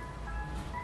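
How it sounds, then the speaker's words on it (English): An ice cream truck plays its chiming tune faintly and steadily, with a low hum of traffic beneath. "oh, ooh, the ice cream truck."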